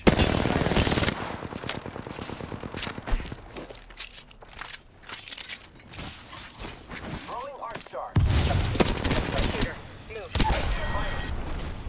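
Gunfire from Apex Legends bursts in dense, rapid volleys and scattered single shots, loud and close, mixed with mechanical clicks and game effects, with brief lulls between exchanges.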